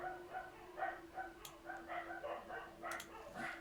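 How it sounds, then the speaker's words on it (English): Several dogs bark in repeated short bursts from a moderate distance, with a steady tonal hum running underneath and no talk. "the dogs are going nuts"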